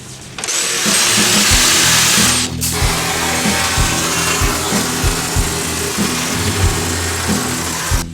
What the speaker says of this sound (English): A little more cutting. Always use a specialty jigsaw blades.